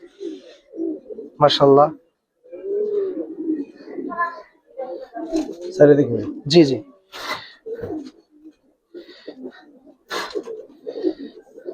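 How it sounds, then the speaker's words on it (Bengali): Young Giribaz coloring pigeons, this year's hatchlings, give soft, intermittent coos between stretches of close conversation in Bengali. "এগুলা একেবারে ইয়াং কবুতর ভাই, ঠিক আছে, এই বছরের বাচ্চা এগুলা"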